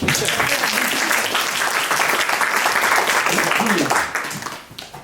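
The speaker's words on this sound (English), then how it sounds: "We can clap for that, please." Audience applause at a commemoration of the 80th anniversary of the repeal of the Chinese Exclusion Act, a dense, steady clapping from a sizable crowd that holds strong for about four seconds before fading out.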